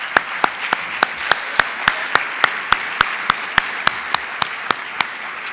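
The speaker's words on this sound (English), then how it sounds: "I want to give a round of applause to all the families that are here tonight" An audience at a school athletic and academic awards night applauds the families present; a broad wash of clapping runs under a steady, evenly spaced series of sharp, prominent claps that stand out close by.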